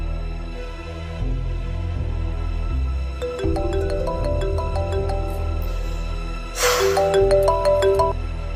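A phone ringtone plays a bright melodic tune that repeats, loud and clear over low background music, with no one speaking.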